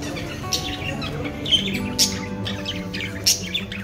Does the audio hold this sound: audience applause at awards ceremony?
no